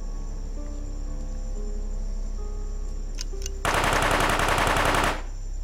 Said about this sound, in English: That's a submachine gun.